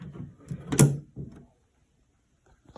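A mailbox door swings shut with a brief cluster of thuds and one sharp clack, followed by silence.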